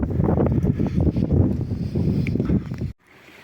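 Strong wind on the Dnipro riverbank buffeting the microphone in heavy low rumbling gusts, then cutting off abruptly near the end, leaving a quieter background.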